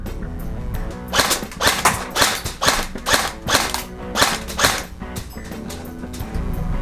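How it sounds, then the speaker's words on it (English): G&G G26 pneumatic blowback airsoft pistol firing .2 gram BBs, a string of about nine sharp, evenly spaced cracks with mechanical blowback clatter, close and clear with no talk. "We test fired the gun with .2 gram BBs"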